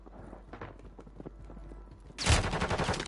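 Quiet scuffling and footsteps give way to a sudden, loud burst of rapid automatic gunfire in Modern Warfare III, close and harsh, continuing to the end.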